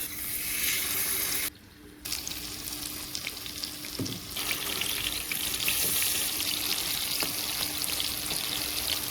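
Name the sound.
dragon fruit pakora frying in oil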